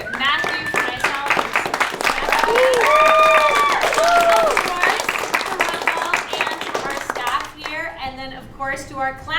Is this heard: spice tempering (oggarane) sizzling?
no